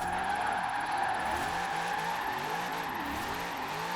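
Engine of the new Corvette drifting in Forza Horizon 4, a steady, loud, sustained engine drone with tire noise, holding one gear throughout with no break.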